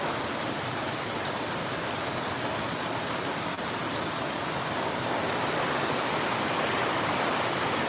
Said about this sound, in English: We get cooler temperatures when it's raining like this.